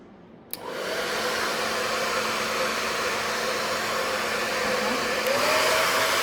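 An Agaro hair dryer with a diffuser attached switches on at full speed with a click, then blows a loud, steady rushing whoosh with a low motor hum that holds unchanged to the end.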